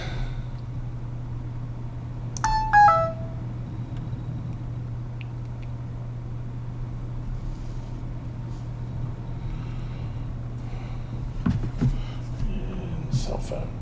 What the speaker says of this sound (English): And cell phone beeps. Ooh, people sending me messages.